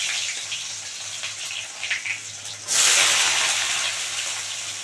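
Onion dropped into hot oil with black cumin in a pan while cooking a Bombay duck fish dish, a sudden loud sizzle bursting in midway and then hissing steadily and close, following a quieter crackle.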